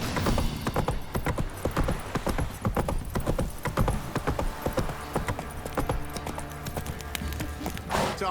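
Horse hooves clip-clop in a quick, steady rhythm throughout in The Witcher 3: Wild Hunt on PS5, close and clear, with a brief snort near the end.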